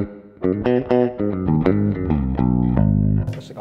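A distorted electric bass played through a BOSS ME-90B effects unit plays a melodic line of plucked notes, with delay echoes and reverb trailing off at the end.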